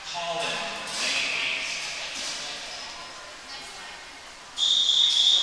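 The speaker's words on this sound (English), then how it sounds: "Got the first set of whistles." A whistle at an indoor swim meet sounds a couple of times, with a sustained blast near the end, amid reverberant pool-deck noise and an announcer's voice.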